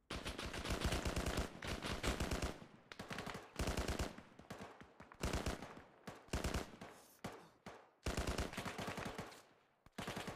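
Video game gunfire in rapid automatic bursts, loud and close, broken by short gaps between volleys, with no talking.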